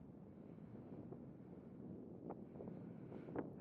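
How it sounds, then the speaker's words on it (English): Wind buffets a microphone atop a sand dune near a lake at Lake Mungo, a low steady rumble with a few gusty puffs, faint and continuous, with no talking. "It's going to get windy, so sorry about that."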